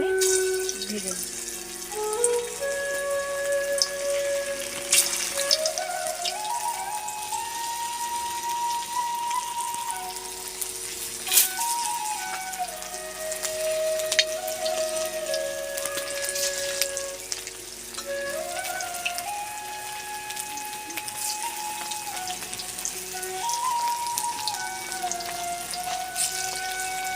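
Small chicken keema pakoras frying in hot mustard oil, a steady, close sizzling crackle that carries on throughout under background music.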